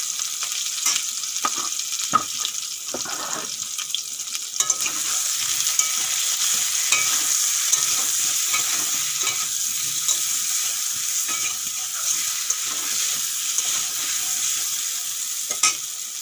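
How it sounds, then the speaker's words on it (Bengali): Eggplant pieces with a little turmeric fry over high flame in a wok, giving a steady, even hiss of oil sizzle with occasional soft stirring clicks and no voices. "বেগুনগুলো হাই ফ্লেমে ভাজা করে নেবেন"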